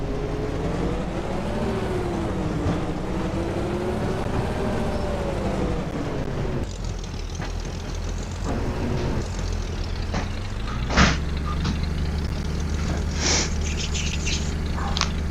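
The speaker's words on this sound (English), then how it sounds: "let's get our truck over there" A truck drives in the Farming Simulator 25 video game during a canola harvest, a steady engine drone rising and falling in pitch, then a rougher rumble with a few sharp clanks and clicks, no talking.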